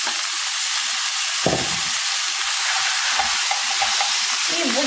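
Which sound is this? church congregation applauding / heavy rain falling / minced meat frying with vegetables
minced meat frying with vegetables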